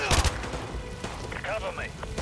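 Gunfire in the video game Call of Duty Modern Warfare 2 Remastered: a couple of short, quiet shot bursts pop under steady talking, with game voices and effects around them.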